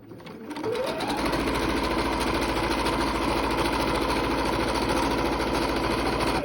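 After a brief start, a sewing machine revs up and runs at a constant, loud pace, stitching a straight seam with a steady mechanical whir and fast needle chatter.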